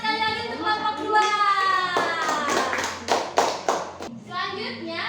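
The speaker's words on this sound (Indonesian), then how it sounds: "Tepuk tangan sekali lagi untuk kelompok 2." A classroom of students claps for a group's poster presentation, rhythmic hand claps in short bursts mixed with children's voices chanting and talking over them.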